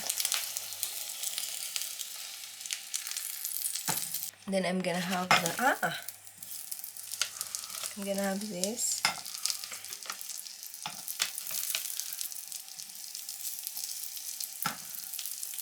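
Food for a Filipino breakfast frying and sizzling steadily in a pan, with close stirring scrapes and a few clinks, while a person speaks briefly over it.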